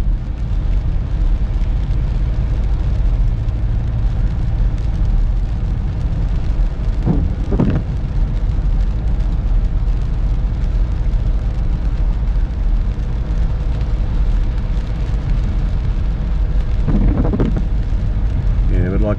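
A car driving at night on wet, rainy roads in the Czech Republic: a loud, continuous low road rumble and tire hiss throughout, with a couple of brief voice bursts.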